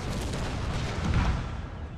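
Cannon artillery fire in the Napoleon Total War video game, with guns positioned on a hilltop, heard as a dense, continuous rumble of booming shots that swells briefly in the middle.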